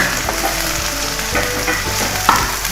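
Tomatoes sizzling and frying with meat in a pot for degi aloo gosht, a steady loud crackle with a few stirring scrapes and clinks, no voices.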